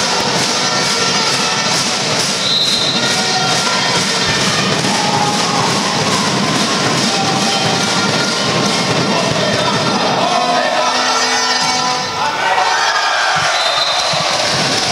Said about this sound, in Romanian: Aplauze pentru Dubravka Djuric